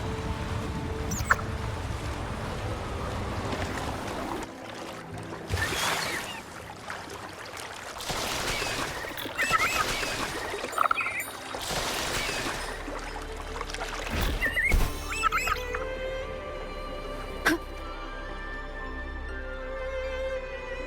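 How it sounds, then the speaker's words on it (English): Rushing water at a waterfall in the video game Wuthering Waves, a steady full roar carried through the whole stretch with shifting surges, soft splashes and occasional game effects layered on top. "Another waterfall."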